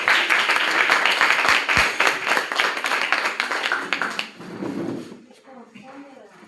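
Applause at a school celebration of Atal ji's birthday, dense clapping from an audience for about four seconds before fading quickly, with voices murmuring faintly afterward.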